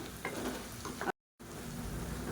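Coriander leaves sauté in a pan for brinjal chutney, giving a steady close sizzle with occasional stirring scrapes, broken by a brief moment of dead silence.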